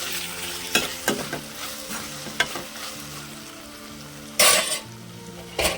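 Tomatoes cooking on low heat in a pan as a spoon stirs them, a few sharp clinks and scrapes spaced apart over a faint steady sizzle, then a louder brief rattle near the end, close and alone.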